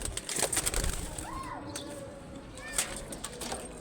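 Pigeons cooing softly under steady outdoor background noise, with a few faint call sweeps and light fluttering; no clear wing-flap burst stands out.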